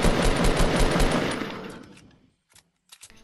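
Rapid automatic gunfire in the Fortnite battle royale game, a loud dense burst of shots that trails off after about two seconds, followed by a few scattered short pops.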